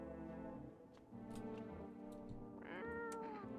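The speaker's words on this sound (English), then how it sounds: "Pet the cat, pick up the cat." A cat meowing in the video game No I'm Not a Human, two or three drawn-out meows over a low hum, the last one rising and falling clearly.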